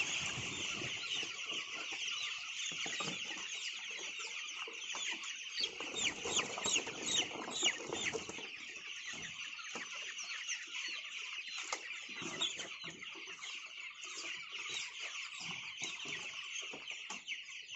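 A crowd of broiler chickens in a coop clucking and chattering continuously, a dense, busy flock sound with occasional louder squawks and wing flutters.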